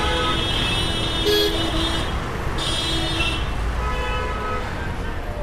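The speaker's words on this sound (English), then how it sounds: "The traffic is getting crazy" Busy street traffic near Sassoon Dock on Colaba Causeway in Mumbai during a festival, a steady close roar of vehicles with a few short car horn toots rising above it throughout.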